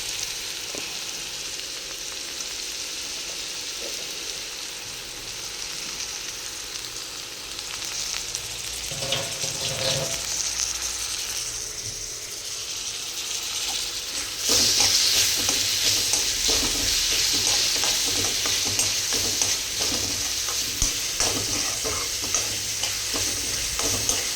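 Tomatoes fry in a pan with a steady sizzle that grows louder and brighter partway through, while a utensil stirs and scrapes against the pan in repeated bursts.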